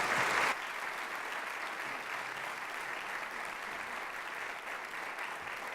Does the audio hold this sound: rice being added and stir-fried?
no